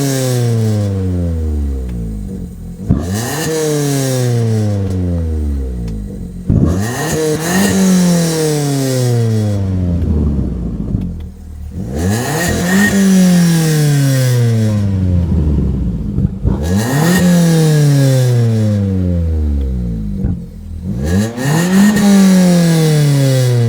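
A modified Maruti Suzuki Ignis car engine revs hard and loud in repeated bursts, each climbing sharply then falling away, about six surges with brief dips between, close and alone with no talking.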